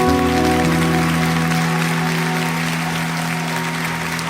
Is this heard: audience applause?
yes